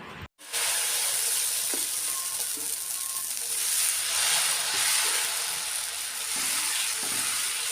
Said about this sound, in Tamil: இப்போ மாவு மிக்ஸ் பண்ணிவிட்டு தோசை வந்து நம்ம வந்து ஊற்றிடலாம்.